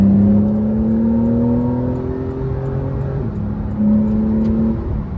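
A 2018 Porsche 911 Carrera 4S accelerating hard on an interstate, heard from inside as a loud engine note climbing steadily through one gear, dropping at a shift, then rising again over road rumble.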